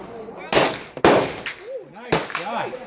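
Gunfire cracks at an outdoor shooting range during a ladies' range day: three sharp, loud reports about half a second apart, with people talking between and after the shots.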